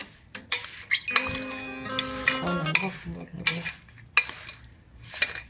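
Spoon scraping and clinking against a metal pot while mixing a mixed-vegetable pickle, with irregular metallic knocks and rattles close up and occasional quiet voices in the background.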